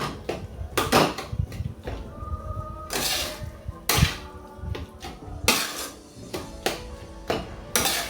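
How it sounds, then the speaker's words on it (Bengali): Spoon stirring a thick potato filling in a pan for mango chop, a series of close, irregular scrapes and knocks against the metal with short pauses between strokes. "নাড়তে নাড়তে আলুর পুরটা যখন পুরো টাইট হয়ে যাবে তখন আমি এটাকে নামাবো"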